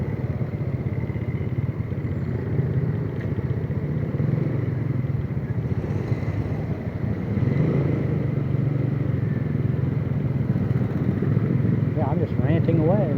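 A motorcycle engine drones steadily while riding along in Saigon, with wind rush and a voice talking over it.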